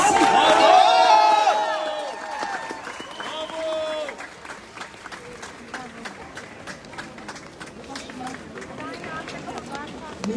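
A crowd at a public gathering applauds and cheers for a town mayor, with a loud burst of clapping that fades over several seconds into ongoing crowd murmur and talk.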